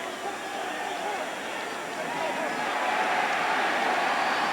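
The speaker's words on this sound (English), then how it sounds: "It's one of the few times this afternoon we've really heard from this Colorado crowd." A broad wash of crowd noise swells steadily, a large stadium audience at a 1992 Colorado Buffaloes football game cheering and roaring at a distance with no single voice standing out.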